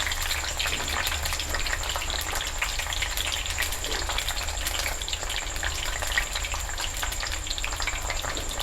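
Laddu mixture of lentils frying in a pan as it is stirred constantly with a spoon, giving a steady, dense sizzle with no pauses, close and fairly loud throughout, and no voices.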